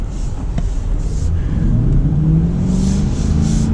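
A 2022 C8 Corvette 2LT pulling away under acceleration, a loud steady engine rumble with rising drone heard from inside the car, close and continuous with no talk.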